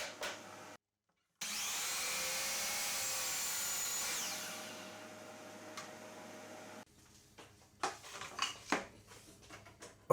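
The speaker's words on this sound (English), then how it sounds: "I used the miter saw to cut each of these boards to length" Miter saw cutting wooden boards to length in a furniture makeover workshop, a loud steady whine of the spinning blade for a few seconds that winds down, followed by clunks and handling noises.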